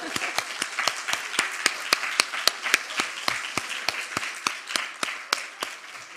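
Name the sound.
congregation applause in church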